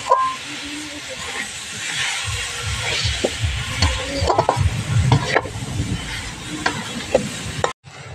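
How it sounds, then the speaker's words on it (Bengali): A coconut mixture with powdered milk being stirred in a pan, an irregular scraping and knocking of a spoon over a hissing sizzle, close by, with a brief break near the end. "এখানে ভালো করে মিশিয়ে দেবো।"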